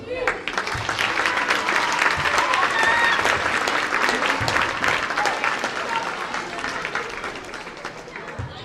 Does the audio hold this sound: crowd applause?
yes